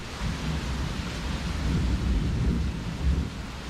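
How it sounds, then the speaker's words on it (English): Steady heavy rain roars throughout, with low rumbling thunder swelling underneath and a stronger rumble near the end. "I'm trying to lower down the volume of this video because the rain is so annoying"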